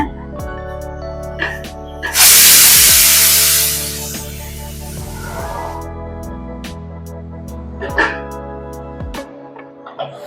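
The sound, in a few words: okra sizzling as it is added to hot oil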